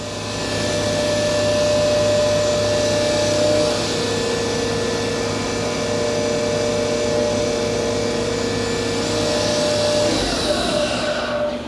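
A Fadal VMC 4020HT vertical machining center spindle spins at its 10,000 RPM maximum, a loud steady high-pitched whine with a sustained hum that holds evenly and then winds down near the end.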